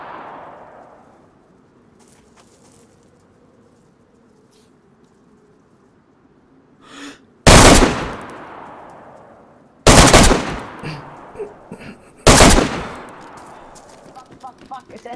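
Bursts of submachine gun fire in DayZ, three loud, close, rapid volleys spaced a few seconds apart, each cutting off sharply, following a quiet stretch with faint background noise.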